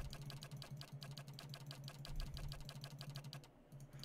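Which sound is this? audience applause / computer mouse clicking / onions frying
computer mouse clicking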